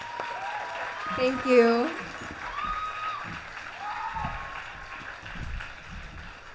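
Applause at a virtual high school commencement, soft and distant, with a few louder claps and some cheering, while a voice briefly speaks over it.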